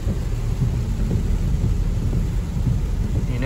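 Heavy rain falls steadily with low thunder rumbling throughout, a dense, continuous downpour heard close by outdoors, with no voices.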